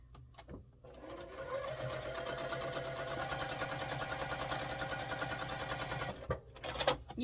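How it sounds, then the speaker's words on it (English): A sewing machine stitches quilt block pieces in one sustained run of rapid, even needle clatter, starting and stopping with a few clunks, close and loud. "sew on and stitch on each side of the drawn line 1/4 inch away from the line"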